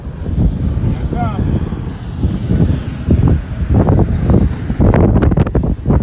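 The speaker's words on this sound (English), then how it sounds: "So I know there's a lot of wind" Strong wind buffeting a microphone outdoors beside the water, a loud, rough rumble running throughout, with people talking underneath.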